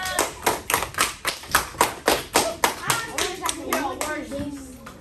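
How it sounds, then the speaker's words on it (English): A class claps in unison, about a dozen sharp, evenly spaced claps that then loosen into scattered clapping as voices and chatter rise over them. "All right, clap it up, clap it up, clap it up."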